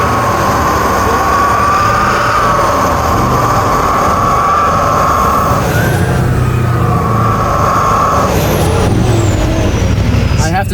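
A fighter jet engine mounted on the Monstermax truck roars in the snow, a loud steady whine and rumble with sweeping tones, persisting throughout under a busy mechanical din.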